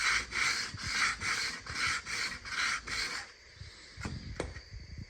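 Coarse 60-grit sandpaper rasps against a synthetic rifle stock from a Savage B-MAG .17 WSM in steady back-and-forth strokes, close and fairly loud for about three seconds, then a few lighter scrapes and taps.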